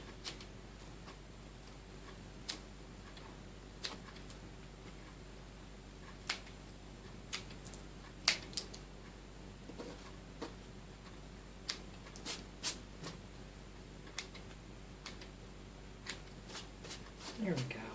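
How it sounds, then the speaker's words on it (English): Scissors trimming Dollar Tree fabric on a fall DIY craft make scattered, crisp snips at an irregular pace, quiet and close against a faint background. "I'm just going to trim these off a little bit because I don't want them sticking out quite that far."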